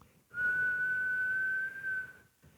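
A single soft, steady whistle held for about two seconds, produced by a person imitating a gentle whistling sound.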